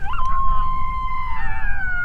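A coyote howls back from far away, about 1,200 yards off, a single long wavering howl that rises and then slowly falls, carrying over a low, steady rumble of wind.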